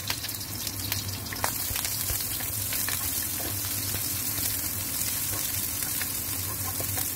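Shallots and garlic frying in hot oil, a steady close crackling sizzle that holds throughout with faint scattered pops and stirring sounds, no talk.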